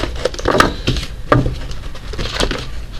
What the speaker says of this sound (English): I'm not having a good time shuffling these today.